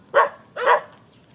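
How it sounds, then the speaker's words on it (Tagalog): Dogs at a bahay kubo house give two sharp, close barks in quick succession, with near silence between and after. "Medyo maingay lang kasi yung mga aso"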